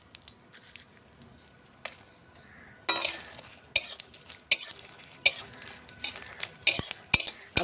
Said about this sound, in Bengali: তেলটা গরম হয়ে গিয়েছে, এবারে শুকনো মরিচগুলোকে দিয়ে ভেজে নেব।